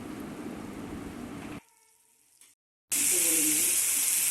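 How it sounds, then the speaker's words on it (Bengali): Coconut milk poured into spiced masala frying in a pan for a Bengali prawn malai curry; a steady, loud sizzling hiss cuts out abruptly, then returns even louder and harsher, with a brief voice over it. "এরপর আমি নারকেলের দুধটা দিয়ে দিচ্ছি।"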